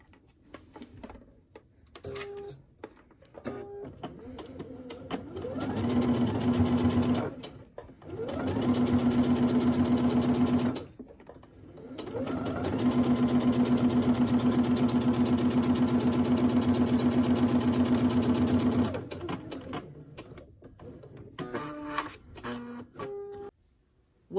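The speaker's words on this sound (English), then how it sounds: "I will take it to my sewing machine so that you can see for yourself." A sewing machine runs in three steady bursts of rapid stitching, separated by short pauses, with light handling clicks before and after.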